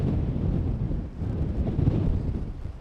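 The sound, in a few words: strong wind at Amsterdam Schiphol Airport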